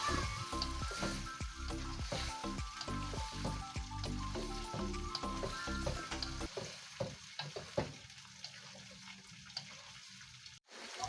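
Turmeric-fried squid with potatoes, spring onion and soup leaves bubbling in a pan, giving a continuous close sizzle with quick crackles and pops. It thins to sparse spits in the last few seconds, then a sharp clack.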